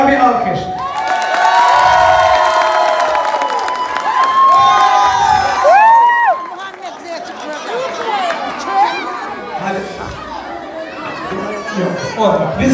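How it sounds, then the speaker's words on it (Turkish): A loud crowd at a Turkish henna night in Aksaray cheers, whoops and claps for the father-in-law, with children shouting and people chattering throughout, and a brief dip in the middle before the noisy celebration picks up again. "Gençler, kayınbabaya bir alkış."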